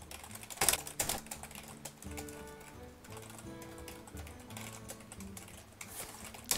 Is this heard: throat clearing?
no